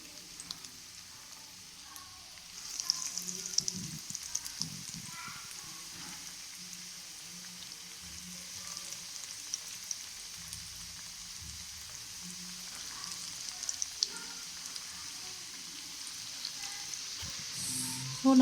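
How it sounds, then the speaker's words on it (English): Chicken pieces for chicken popcorn fry in hot oil over a low flame, giving a steady, soft sizzle and crackle that runs throughout with no talking. "Now I'm going to add this chicken pieces in oil"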